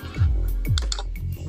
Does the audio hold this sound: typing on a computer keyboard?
yes